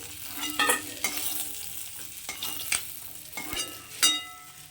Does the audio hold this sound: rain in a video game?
no